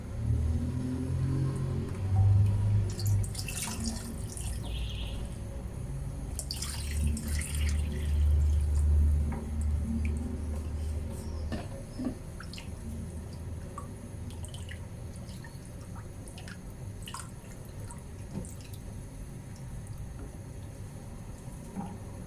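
Cold water pours and splashes into a pot while making tomato vermicelli soup with flour, a steady trickling stream near the mic that tapers into scattered drips and light clinks.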